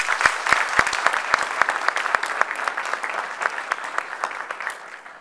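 Audience applause for the ISTE president at the ISTE 2011 conference, starting with sharp, distinct claps that merge into steady, dense clapping and taper slightly toward the end.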